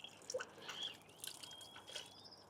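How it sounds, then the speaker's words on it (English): Faint, sparse water drips fall from a car's panels after rinsing during a rinseless wash in a quiet garage, with a few soft splashes and trickles close by. "just thinking about dripping"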